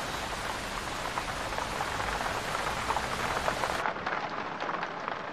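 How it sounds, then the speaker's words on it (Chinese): Sudden heavy rain comes down in a loud, steady downpour near a tent at an outdoor spot, the broad roar continuing alone and turning slightly duller partway through. "怎么突然下这么大雨啊？"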